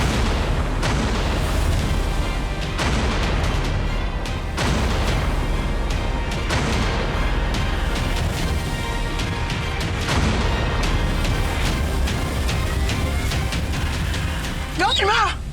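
Gunfire in a shootout rings out as loud, repeated booming shots over a dense, continuous din, with shouting voices throughout.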